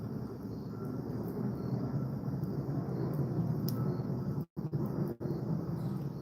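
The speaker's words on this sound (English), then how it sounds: "I hope it doesn't bother you that much with the airplane noise" Steady low rumble of an airplane passing overhead beside a crackling fire pit chimenea outdoors, a continuous broadband roar lasting throughout with a couple of brief dropouts near the end.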